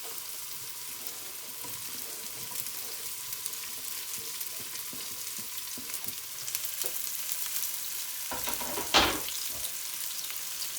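Black beans and spring onions stir-fried fast in hot oil, a steady close frying sizzle running throughout with scraping stir sounds and a brief louder clatter near the end, no talk.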